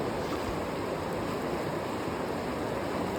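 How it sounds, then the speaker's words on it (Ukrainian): River water flowing steadily, a broad continuous rush with some wind buffeting the microphone, close and fairly loud, without any talking. "Зупинилася біля річки і чому би не скупнутися?"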